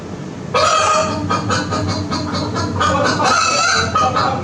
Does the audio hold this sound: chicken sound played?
yes